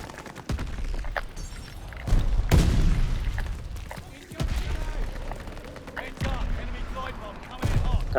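Stun and frag grenade blasts from the video game Call of Duty Vanguard: several heavy booming bursts spaced across the stretch, loud and close, with gunfire and game noise between them.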